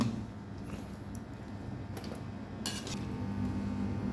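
Utensils scrape and clink against a pot while boiled beef shank is scooped out, a few sharp metallic taps over a low steady background hum, close and quiet, with no talking.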